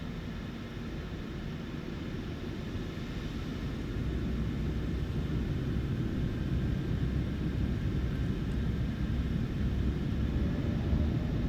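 Boeing 737 jet engines in the MSFS 2020 simulator spool up for takeoff on runway 27 of a very short Papua New Guinea strip, a steady broadband roar that swells slightly and holds, with no talk.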